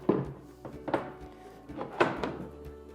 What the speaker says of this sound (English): we can start dropping in our turrets, which simply drop in.